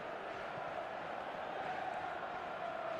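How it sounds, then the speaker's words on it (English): Stadium crowd in an eFootball video game, a distant, dull hum of a large audience with no clear cheers or peaks, steady and faint from start to end. "the crowd have tried to spark some excitement, but to no avail"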